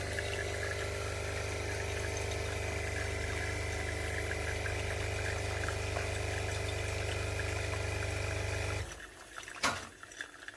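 A Philips Senseo Select pod coffee machine brews with a steady close pump hum and vibration for about nine seconds, then cuts off, leaving a few faint clicks and drips.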